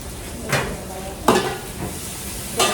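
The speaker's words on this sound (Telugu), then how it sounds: "ఇదంతా ఉల్లిపాయలు బాగా వేగేసి గోల్డ్ కలర్లో కావాలి." Onions fry in a pot with a steady soft sizzle, broken by three distinct scraping stirs spaced about a second apart, with no one talking.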